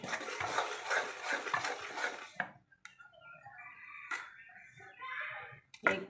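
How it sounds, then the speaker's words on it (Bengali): Jaggery pitha batter is stirred by hand in a bowl, with steady soft scraping and swishing for a couple of seconds, then scattered faint clinks and light scrapes, close up and quiet. "এটাকে পুরো এরকম নেড়ে নেড়ে নেড়ে নেড়ে ভালো করে মিশাতে হবে, যেন কোনো দলা পাকানো না থাকে।"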